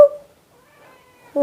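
A house cat meows twice during an indoor stretching session: one short meow at the start and a louder, clear meow near the end, with near silence between.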